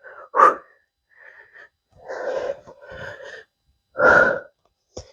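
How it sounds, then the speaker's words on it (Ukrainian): A person breathes hard during a home cardio fitness workout: forceful, audible inhales and exhales in short bursts with quiet gaps between them, close and breathy. "Вдих, видих"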